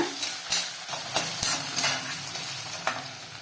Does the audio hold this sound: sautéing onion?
yes